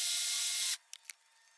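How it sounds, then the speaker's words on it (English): A spray wand hisses HydroFoam onto a Tesla Model 3 in a loud, steady burst that cuts off abruptly after under a second, followed by a few faint clicks and rubs. "The last step here is to put on the HydroFoam spray."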